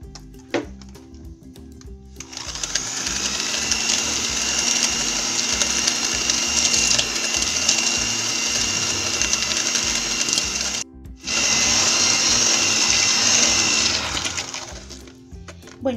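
A steady electric whir of a mixer beating butter into a smooth cream, running continuously, cutting out briefly partway through before resuming at the same pitch.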